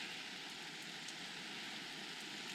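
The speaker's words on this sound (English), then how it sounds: "So it's raining up here, which I knew it would be." A steady, even hiss of rain falls without pause on a hilltop during a hike, a dense wash of drops on a surface with no voices.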